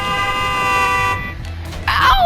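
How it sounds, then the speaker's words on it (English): A truck horn in the Clustertruck video game blares in a long steady sustained tone, then cuts off; a brief second honk sounds near the end, with a voice talking over the game. "Buddy, stop honking."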